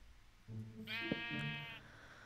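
A single sheep in the video game Minecraft gives one clear, wavering bleat lasting about a second, close and fairly quiet, over a soft background hum.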